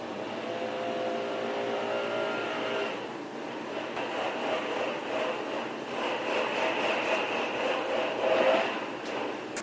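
Leaf blowers run outside a house, a steady droning whine heard from indoors at moderate distance, with engine tones wavering and swelling slightly as they move.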